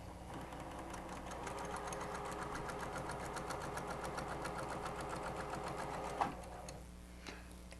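Sewing machine running steadily as doll quilt rows are stitched together, a fast even needle chatter close by, with a couple of small clicks near the end and no talking.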